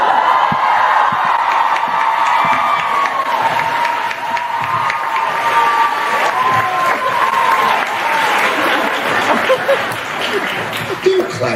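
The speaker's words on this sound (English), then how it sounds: "Don't clap for that." Audience at a Supernatural fan convention panel applauds and cheers, with whoops and laughter mixed into continuous clapping while people talk over it.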